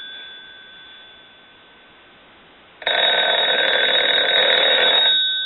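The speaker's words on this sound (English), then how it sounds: "We can turn the ringer off. We can turn it back on. We can turn it down." A field telephone's ringer bell bursts into a loud, continuous electric ring after a stretch of quiet hum, sustained for about two and a half seconds before cutting off; no voices.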